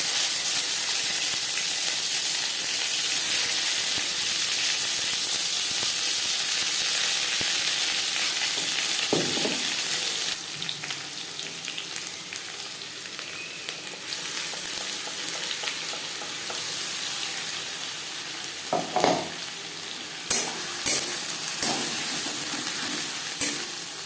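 Ghatkol leaf paste fries in mustard oil with dried red chillies, a steady close sizzle and hiss that softens midway, with a few short scrapes of stirring.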